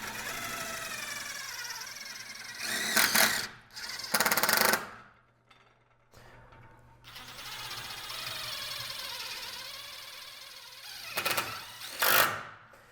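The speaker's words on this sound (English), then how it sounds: "And what Cody's gonna do is take self-tapping Tech screws." A drill drives self-tapping Tech screws into a metal post while an ADA pipe railing kit is fitted, with several short whirring, grinding bursts over a long, droning, pitched mechanical tone, close and moderately loud.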